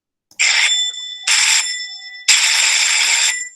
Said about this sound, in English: Here's how the buzzer will sound.